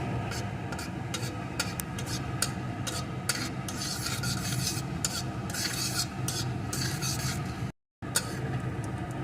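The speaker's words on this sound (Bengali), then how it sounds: "ঘিটা গরম হয়ে যাওয়ার পর এর ভিতরে দিয়ে দেবো একটু গোটা জিরে জিরেটাকে একটু লাল লাল করে ভেজে নেব" Whole cumin seeds frying in hot ghee, a close, steady crackling sizzle with repeated scraping strokes of a spoon against the pan, broken by a brief gap of silence near the end.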